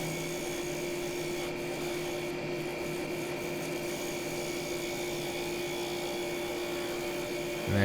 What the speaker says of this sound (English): Using the carbide tool there to smooth out a couple of bumps in the side wall.